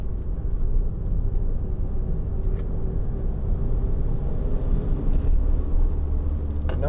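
Steady diesel drone of a 2012 Skoda Yeti 2.0 TDI dropping into third gear for a corner, with continuous low engine rumble and road noise heard from inside the cabin, even and unbroken throughout.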